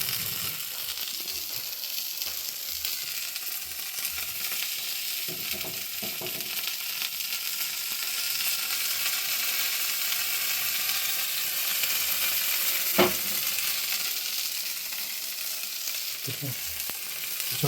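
Chicken fries in hot coconut oil with curry leaves, giving a steady, dense sizzle throughout, broken by occasional clinks and scrapes from stirring in the pan.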